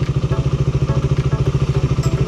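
A Suzuki Raider 150 carbureted motorcycle engine runs steadily at idle, a close, loud, even putter with a rapid regular pulse and no voices.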